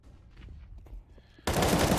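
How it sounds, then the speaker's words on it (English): Burst of AK rifle fire in a competitive esports shooter match, starting abruptly partway through after quieter game ambience and continuing loud and dense to the end. "Mac, of course, UL star player with the AK."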